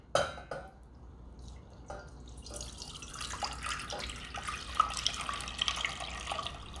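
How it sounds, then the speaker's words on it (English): Milk streams and splashes steadily into a metal pot at close range for mac and cheese, with a continuous gurgling wash and small drips. "Pour in the milk."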